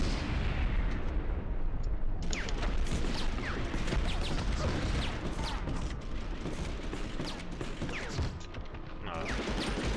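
A bomb blast in the World War II shooter Medal of Honor Underground, a sustained loud rumbling roar of explosion and gunfire layered over ten seconds, with faint talk beneath.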